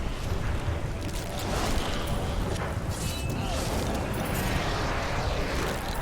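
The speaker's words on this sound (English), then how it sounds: "Let's not stand in the explosion" A Diablo 3 in-game explosion, a dense, loud, sustained roar of crackling rumble that fills the whole stretch without a clear single blast, with faint talk mixed in.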